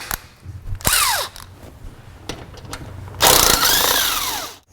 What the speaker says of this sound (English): Next thing we're going to do is we're going to remove our two 10mm bolts.